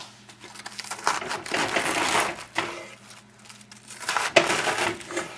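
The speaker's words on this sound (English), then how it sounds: "we're going to cut that whole head of cabbage" A knife chops through a whole head of Napa cabbage in a kitchen, giving crunchy, crisp crushing bursts in several uneven strokes, close and fairly loud, with no talking.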